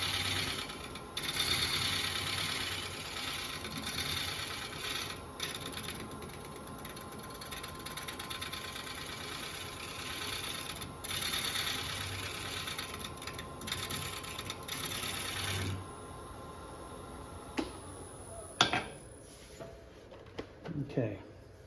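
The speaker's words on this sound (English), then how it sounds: "I'd be tempted to fire up my Richard Raffin scraper and see if I can scrape this walnut a little bit" A Richard Raffin scraper works a walnut blank spinning on a wood lathe, giving a steady whirring, scraping drone with brief pauses and a few sharp knocks toward the end.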